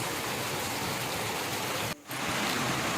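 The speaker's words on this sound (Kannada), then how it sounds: "ಹೊರಗಡೆ ಸಿಕ್ಕಾಪಟ್ಟೆ ಮಳೆ ಇದೆ." Heavy rain pours down outside in steady, dense broadband hiss, near and loud, with a brief dip in level partway through before the downpour resumes.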